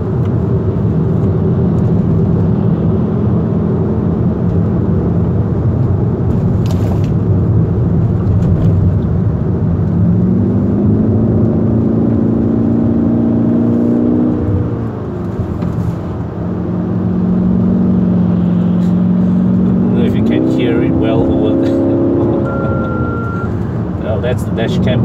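A Kia Optima GT accelerates hard uphill on the Genting road, its engine note loud and close from inside the cabin, with revs climbing steadily through gears in rising sweeps, a brief dip between shifts, and a short beep near the end.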